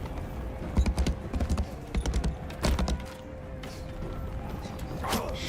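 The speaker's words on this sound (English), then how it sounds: "Excuse me, horse coming through." Horse hooves clip-clop in Mount and Blade II: Bannerlord, a brisk run of close, moderately loud hoofbeats in uneven bursts over a low game background, then thinning out into quieter ambience.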